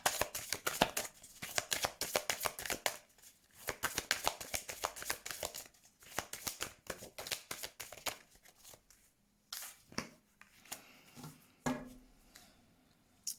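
Tarot cards shuffled by hand in a long run of quick riffling, slapping bursts, close and fairly loud, thinning into a few scattered flicks and taps near the end, with no talking.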